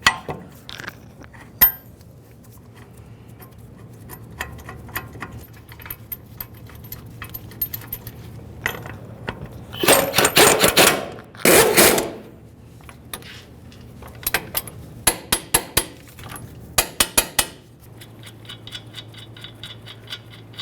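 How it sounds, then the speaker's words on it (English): Wheel hub mounting bolts on a 2003-2011 Mercury Grand Marquis are tightened and torqued to 118 foot-pounds. Close metallic clinks and ratchet clicks come in scattered bursts over a low background hum. "We'll start each of these in, bottom them out, and then torque them to 118 foot-pounds."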